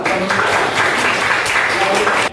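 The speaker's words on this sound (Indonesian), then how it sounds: "Tepuk tangan untuk Mas Iqbal" Students in a classroom break into brisk group applause, a dense burst of many hands clapping at close range that swells slightly and then stops abruptly.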